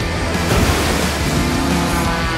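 Stormy ocean waves churning under a Jaguar Vector V40R powerboat in The Crew 2, a loud, steady wash of surf and spray with no pauses.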